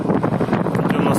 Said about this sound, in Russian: Ветрище такое, что с горки, блин, приходится педалить, чтобы ехать.